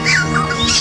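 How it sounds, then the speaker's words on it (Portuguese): A yellow-rumped cacique (japim) calls nearby in the Amapá wetlands, a loud, brief burst of whistled, squawking notes sliding up and down, heard alone. "O japim, por exemplo, pássaro que chama a atenção pelo contraste do amarelo e preto da plumagem e pelo canto"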